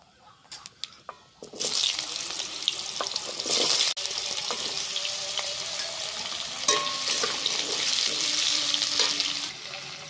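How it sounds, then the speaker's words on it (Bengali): Chopped potatoes, two bay leaves and five-spice tipped into hot oil for a mixed village vegetable dish. A few quiet clicks come first, then a loud, sustained sizzle kicks in and runs on, with faint stirring. "দিয়ে দিচ্ছি দুটো তেজপাতা, দিয়ে দিচ্ছি 5 ফোড়ন, দিয়ে দিচ্ছি আলু কুচি"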